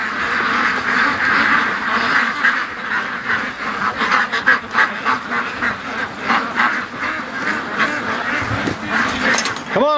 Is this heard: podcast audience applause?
no